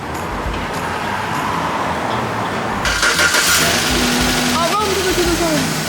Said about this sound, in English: Pour the oil and see if she fires up for the first time.